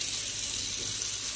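Boiling water pours steadily over sponges with a continuous hissing splash, close and fairly quiet, with no voices.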